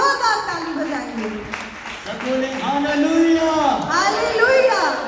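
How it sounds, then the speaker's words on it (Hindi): A church congregation at a prayer and testimony gathering in Chandigarh claps steadily, with voices talking and calling out over the applause throughout. "भाई बिल्कुल चके हो गए, जोरदार ताली बजाएंगे।"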